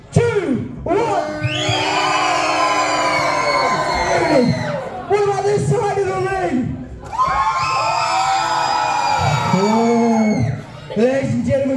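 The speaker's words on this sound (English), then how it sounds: "this side of the room, I want you to give us the biggest cheer you possibly can" A live wrestling show crowd in Fosdyke cheers loudly with whoops and yells, swelling in two long, sustained surges separated by a brief dip.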